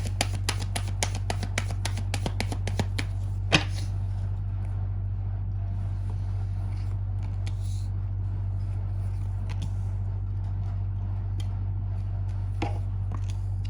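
Tarot cards being shuffled during a reading: a quick run of crisp riffling clicks in the first few seconds, one sharper snap near four seconds, then sparse soft card handling over a steady low hum.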